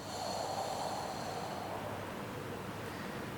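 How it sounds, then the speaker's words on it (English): A person exhaling through the mouth during a slow breathing practice, one long airy whoosh of breath that fades gently, close to the microphone and alone without talk. "Exhaling through the mouth."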